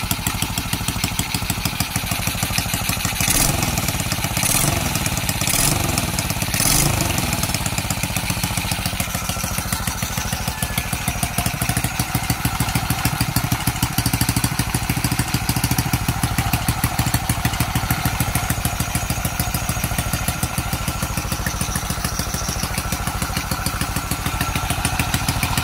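A Honda XRM 110cc motorcycle engine idles after reassembly, a steady close single-cylinder putter with fast even pulses and a few light knocks early on.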